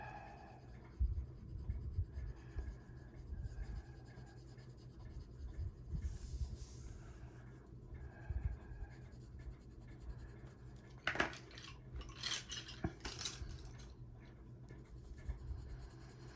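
Lemon yellow colored pencil scratching across paper on a greyscale coloring page, steady close strokes in short bursts with brief pauses, soft and near with no talking.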